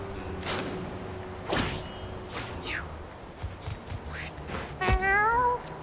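A cartoon cat meows in the video game Mewgenics, with a clear rising-and-falling harmonic meow near the end over a busy bed of game sound effects and soft thumps.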